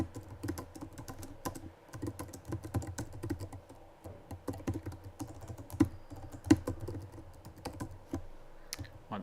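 Java code is typed on a computer keyboard with quick, uneven bursts of key clicks and the occasional louder thump. The keys sound close and are heard alone, with pauses between runs of typing.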